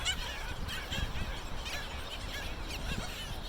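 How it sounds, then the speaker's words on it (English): A flock of black skimmers, adults and juveniles, calling over one another on Lido Key Beach, Florida, in a dense, continuous chatter of short yelping notes, with steady wind or surf underneath. "This is what's on the beach, the black skimmers."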